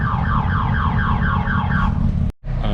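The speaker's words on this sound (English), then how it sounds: "I'm gonna let the alarm die out real quick on this van over here that the Harley set off" Car alarm on a parked van, set off by a passing Harley motorcycle, wailing loud and close in a repeating rising-falling cycle, then cutting out briefly before a new pattern starts.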